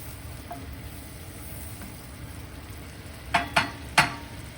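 Minced garlic and clams are stirred in a hot pan over a faint, steady sizzle, ending in three sharp clinks of a utensil against the pan near the close.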